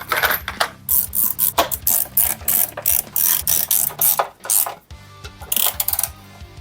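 Screws being tightened one after another on an outboard motor fuel tank for a bass boat, a close, busy run of rapid ratcheting clicks and metallic rubbing in bursts with short pauses.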